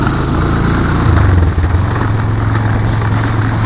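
A Honda Recon quad ATV engine running rough, giving a steady, loud, close low drone that rises briefly in pitch about a second in, then settles back to an uneven idle-like rumble.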